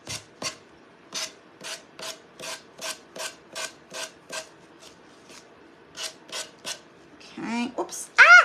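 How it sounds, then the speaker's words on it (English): A gator zip sander works over a vintage wooden Christmas ornament in steady back-and-forth rasping strokes, roughly two per second, close and clear in a quiet room. A brief vocal sound comes in at the end. "It's called a gator, like a gator zip sander."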